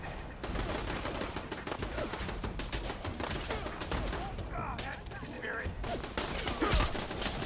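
Automated turrets in Fallout 4 fire dense, continuous bursts of gunfire in a swampy area, a loud rattling fusillade that fills the whole stretch with a few softer voice-like sounds mixed in.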